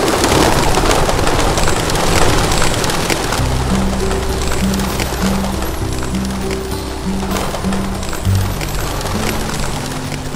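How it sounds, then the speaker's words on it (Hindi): Pigeons cooing in low repeated tones over a dense, noisy wash that may hold fluttering wings, steady and fairly loud throughout, with no clear talking. "जब कबूतर उड़ने लग गए"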